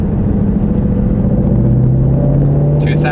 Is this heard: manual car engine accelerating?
yes